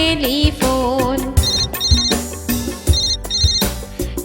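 A bright electronic telephone ringtone plays a repeating melodic pattern over a steady beat, loud and clear with no voices.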